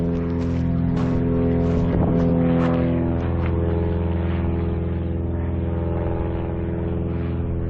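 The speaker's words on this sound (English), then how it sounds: "Sorry for the plane going overhead." A light plane towing a glider passes overhead at a junkyard in Maricopa, Arizona, its engine a loud, steady, grumbling drone that holds throughout with no talking.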